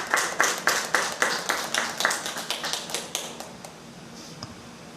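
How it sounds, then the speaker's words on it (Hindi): A congregation at a Sunday praise and worship service claps to welcome the pastor, giving a run of evenly spaced, crisp rhythmic claps that slow and fade out near the end. "आइए हम सब ताली बजाकर ताली बजाकर उनका स्वागत करें"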